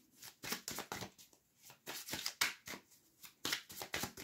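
Oracle cards are shuffled by hand at close range in a series of quick, soft riffling bursts separated by short pauses, faint and with no talking.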